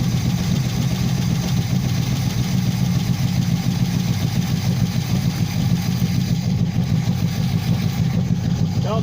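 A G-Body Cutlass Supreme's engine runs at a steady, close idle after its radiator is reinstalled, a low continuous rumble with no change in pace.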